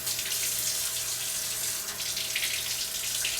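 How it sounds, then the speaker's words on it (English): Hot and cold water running steadily from a faucet, a continuous, loud, even rush of water lasting the whole stretch with no voices. "you turn on the hot and cold water"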